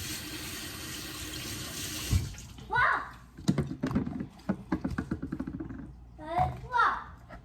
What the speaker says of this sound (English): And let me just wash these out for Junie B.